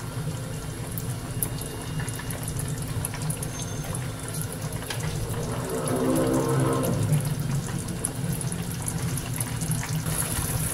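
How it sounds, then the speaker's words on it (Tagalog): Hot water poured into a pan of sautéed vegetables with a little oil, taro and pork, a steady close pouring and bubbling rush that swells in the middle and continues throughout. "Lagyan natin ng tubig, konti, hot water na siya."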